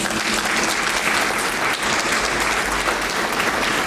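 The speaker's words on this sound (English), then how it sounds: "So please give this organization another round of applause." An audience at a debutante ball breaks into sustained, loud applause, dense clapping filling the whole stretch evenly with no voices standing out.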